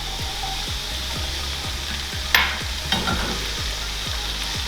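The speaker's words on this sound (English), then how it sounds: "Gonna go ahead and put in our capers here." Capers dropped into a sizzling, reduced piccata sauce for fish piccata fry with a steady close crackle, with a brief splash as they land and repeated stirring scrapes through the pan.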